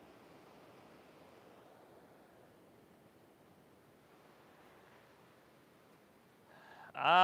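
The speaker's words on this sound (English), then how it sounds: "notice the sound of the ocean" Soft, steady wash of San Diego ocean surf, faint and continuous, followed by a sudden loud burst at the very end.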